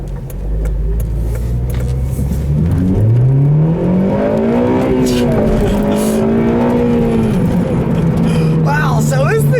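2009 Honda Civic Si sedan accelerating hard on a back road, its engine note climbing steadily through the revs from inside the cabin, loud and continuous.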